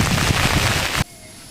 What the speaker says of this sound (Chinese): 我们躲在里面这边，下很大的雨。